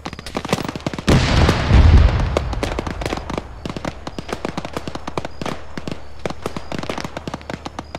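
A nearby explosion in a combat setting bursts out loudly with a deep rumbling boom, followed by a long stretch of sharp crackling pops and scattered reports, with no clear talking.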